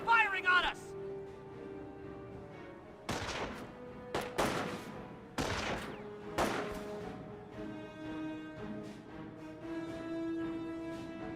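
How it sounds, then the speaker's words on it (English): Ground troops fire on the player's units in Company of Heroes, a World War II strategy game. Several sharp gunfire bursts crack out in short clusters amid battle noise and music, with a caster's voice speaking over them. "We have ground troops firing on us!"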